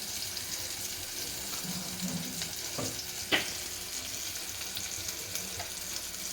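Onions fry in a pan, giving a steady, even sizzle with a brief clink of stirring partway through, close up and without speech.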